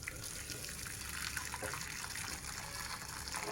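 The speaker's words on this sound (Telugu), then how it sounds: "పప్పులో నీళ్ళు ఉండేటివన్నీ కూడా నేను ఇట్లా పక్కకు వంచేసుకున్న తర్వాత పప్పు రామేస్తాను." Cooking water pours steadily off boiled lentils tilted in a pot, a continuous splashing gush with no talk over it.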